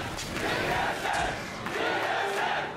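A large esports arena crowd at a League of Legends NA LCS Summer 2015 match between Enemy eSports and Team Solomid roars and cheers loudly and continuously, with swelling waves of shouting.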